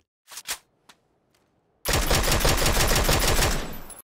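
A few sharp isolated shots, then a dense sustained burst of rapid automatic gunfire roaring loudly for about two seconds, from the video game PlayerUnknown's Battlegrounds.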